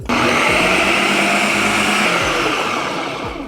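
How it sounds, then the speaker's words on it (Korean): A Ninja all-in-one food processor runs loudly and steadily, whirring as it mixes a dough of pressed tofu, meat and vegetables, with a constant motor drone throughout and no talking. "자 반죽 해주도록 하겠습니다 믹스"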